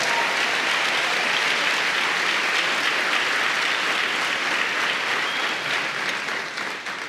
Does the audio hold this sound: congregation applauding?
yes